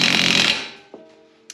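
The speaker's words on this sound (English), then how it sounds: "So now I just need to tighten up this axle nut right here." A short loud burst of a power tool, likely an impact wrench, tightening the axle nut on a Honda Civic with a K-swap, then fading, followed by two faint metallic clicks.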